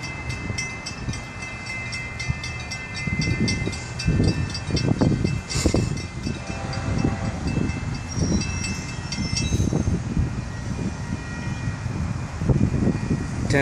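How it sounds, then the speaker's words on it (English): Florida East Coast (FEC) train 202 rumbles past at a grade crossing, with heavy rhythmic wheel thumps and faint crossing bells ringing above the steady rolling noise. "FEC train number 202."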